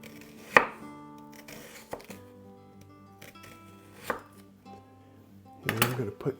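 Knife chopping food on a cutting board, a few sharp, separate cuts spaced out with pauses between, one heavier flurry of strokes near the end, close and fairly quiet.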